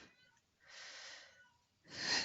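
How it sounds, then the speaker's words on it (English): Cats fighting indoors, with drawn-out growling yowls and hissing that rise and fall in two bursts before a harsh, loud spitting outburst at the end. "the cats are fighting right now"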